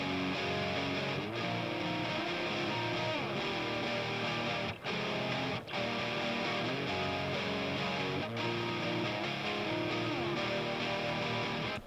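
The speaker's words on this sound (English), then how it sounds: "Here is the sound of all of my guitars on the right." Layered distorted electric guitars play a thick, driving riff, loud and continuous with a couple of short breaks.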